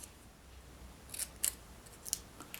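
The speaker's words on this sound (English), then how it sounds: "I'm trimming this end now." Scissors snip through paper while trimming the end of a card-craft banner, a few quick, faint close-up cuts in a quiet room with no talking.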